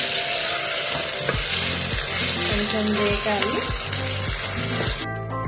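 Tomatoes fry in a hot pan for vegetable khichdi, a loud continuous sizzle with scraping strokes as they are stirred, and a faint voice murmuring beneath.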